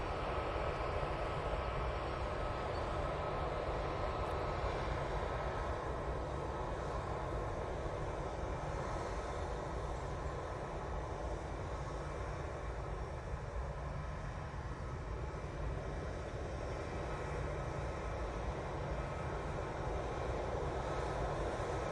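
A Singapore Airlines airliner climbing out and turning north after takeoff at Manchester Airport gives a steady, distant engine roar that holds evenly throughout, with no voices.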